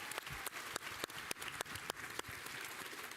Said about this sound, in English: So please give Renee a round of applause.